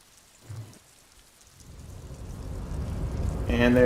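Rain in the video game Disco Elysium fades in and swells into a steady, dense wash of falling rain, rising louder toward the end, with no talk over it.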